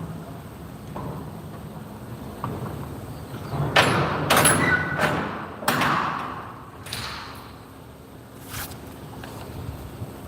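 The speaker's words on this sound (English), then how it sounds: "Let me go shut this door real quick." A trailer door at a whiskey distillery unloading stop being pulled shut, giving a few sliding rattles and thuds in quick succession near the middle, with quiet outdoor background before and after.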